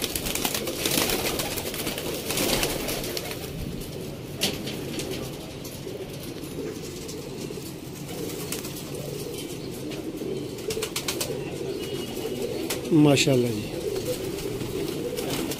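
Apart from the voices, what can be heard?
golden pigeons cooing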